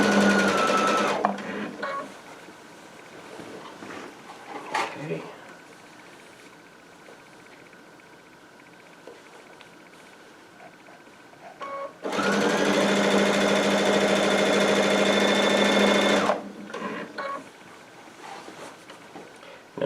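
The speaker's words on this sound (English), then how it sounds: "just going to sew it down now until I get to that first corner" A Baby Lock Altair sewing machine stitches down quilt binding, with a steady mechanical whir running for about four seconds after quieter handling and clicks.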